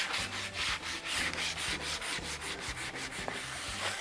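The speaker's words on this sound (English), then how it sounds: "I'm going to give it a little bit of a sand" A piece of timber being sanded by hand: rhythmic, close back-and-forth scratchy strokes, about three per second, steady and even throughout.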